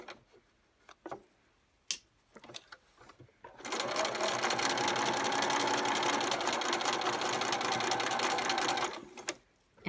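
Sewing machine stitching a quilt block, a quick, even mechanical chatter running close and steady for about five seconds, preceded by soft clicks and handling noises of fabric and presser foot.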